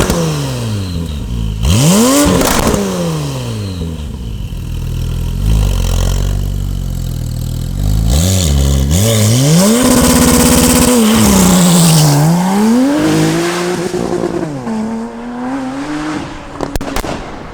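Porsche 911 T with a twin-turbo engine, tuned to 680 cv, revving hard and loud: rising and falling sweeps as it accelerates and shifts, with sharp pops and crackles, close by and no voices.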